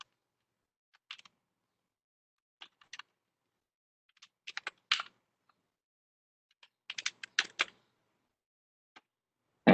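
Code is typed on a computer keyboard in short, sparse bursts of crisp key clicks separated by silent pauses, close and fairly quiet, with a louder thump at the very end.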